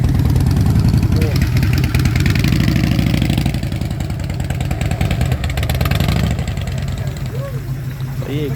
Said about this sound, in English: this is the old red motor 186. This is in this HR Holden.